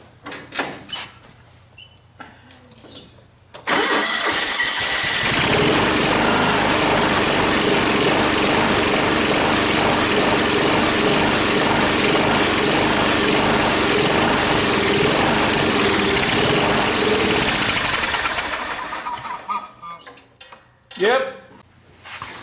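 A John Deere F710 mower engine cranks and runs roughly for about fifteen seconds, a loud steady mechanical clatter and drone that starts abruptly and fades out, with some talk before and after.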